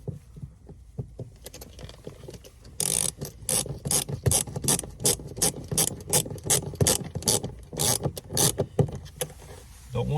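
Rapid ratcheting clicks from a socket wrench installing the hinge of a Toyota 4Runner rear storage cover, a quiet start of scattered clicks giving way to loud, close, steady bursts of ratchet strokes.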